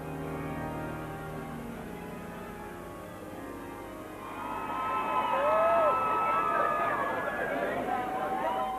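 A crowd at Harry and Meghan's royal wedding murmurs and cheers in the distance, the babble swelling midway with scattered shouts and whistle-like calls over a steady wash of noise.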